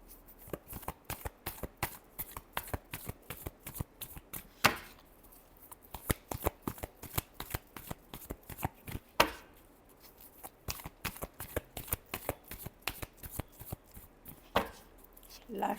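Tarot cards are shuffled in rapid bursts of crisp riffling clicks, with a few louder slaps as the deck is squared, steady and close for the whole stretch with no talk over it.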